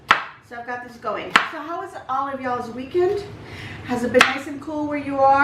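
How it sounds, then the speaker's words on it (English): Potatoes and carrots being chopped on a cutting board, with a couple of sharp knife knocks at scattered moments beneath near, continuous talking. "I am going to cut up some little potatoes and some carrots."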